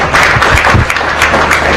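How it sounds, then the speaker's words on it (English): Applause from an audience at a live charity celebration event, a steady wash of clapping filling the short stretch at moderate loudness with no talk over it. "let's give her a round of applause for that."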